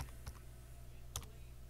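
A few crisp computer keyboard keystrokes while a list is typed live, scattered clicks in a quiet room with no speech.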